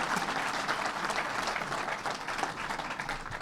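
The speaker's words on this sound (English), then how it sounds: "let's give the commissioner another round of applause" An audience at a New York Islanders press conference for the Belmont Park arena gives a round of applause, a thick, continuous wash of clapping that stays loud and steady from start to finish.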